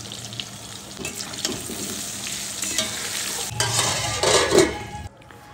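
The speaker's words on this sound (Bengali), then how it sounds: "আমি আলুটা ভাজতে দিয়েছি লবণ আর হলুদ দিয়ে" Potatoes frying with salt and turmeric give a steady close sizzle with stirring scrapes, building louder toward the end before cutting off.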